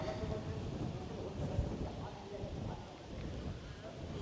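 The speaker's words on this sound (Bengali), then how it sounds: "ওই যে বজ্রপাত হচ্ছে" Thunder rolls in a low, faint rumble during rain, with a steady soft rain hiss throughout and no clear talk.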